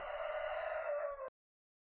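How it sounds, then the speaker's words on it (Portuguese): A rooster crows in one long, loud, sustained call that cuts off sharply, followed by silence, with no talking. "Esse galo não vai parar de cantar, não?"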